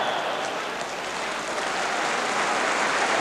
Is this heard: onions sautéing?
no